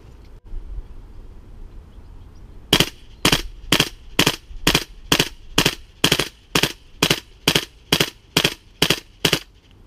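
A Tokyo Marui M4 MWS gas blowback airsoft rifle running a green gas modified magazine fires about fifteen crisp, evenly spaced shots in a steady semi-auto rhythm. Each shot is a close, sharp crack with a short mechanical clack.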